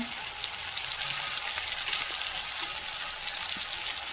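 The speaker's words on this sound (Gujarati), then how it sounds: "ટામેટો એડ કરી દીધા એની અંદર. પછી એના પછી હલવી દેવાનું ધીમા તાપમાં." Tomatoes frying and being stirred in a pan on low heat make a continuous bright sizzle with faint stirring scrapes underneath, close and steady, with no voices.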